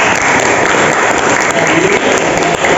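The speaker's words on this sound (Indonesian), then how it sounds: "tepuk tangan buat Ana ya." A classroom of students claps for a classmate, with loud, close, continuous applause filling the room from start to finish at a steady intensity.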